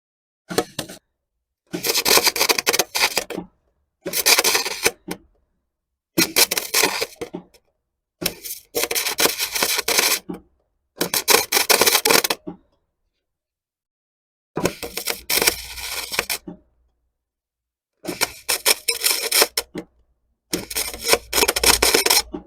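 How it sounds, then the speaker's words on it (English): A CO2 MIG welder running aluminium wire on a BMW hot rod build, with the shielding gas running a little low, crackles and sputters loudly in about eight separate bursts of one to two seconds, with silent pauses between them. "let me try my CO2 welder with aluminium wire"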